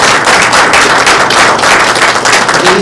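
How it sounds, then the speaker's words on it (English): Audience at an oral health day event applauding a panel of deans, with continuous loud crackling clapping that stays steady and close throughout, with no talking over it. "Let's give our Dean panel another round of applause."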